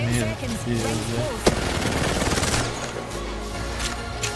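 Gunfire crackles in the video game Apex Legends in a dense burst of rapid shots, a sharp crack leading into clattering automatic fire, mixed with players' excited talk.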